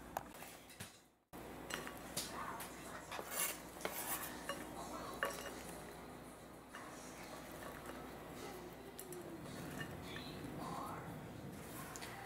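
A knife working finely through hot pepper, scallions, celery and culantro on a board, soft steady chopping and clinks of utensils, quiet and continuous in a kitchen.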